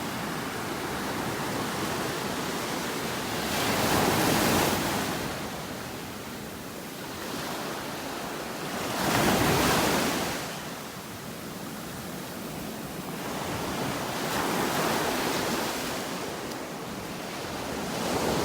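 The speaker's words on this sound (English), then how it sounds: "I love watching the waves roll in here, hitting the old trees." Gulf of Mexico surf on a North Naples, Florida beach rolls in and breaks against old trees, a continuous broadband roar swelling into three or four louder wave crests, with some wind across the microphone.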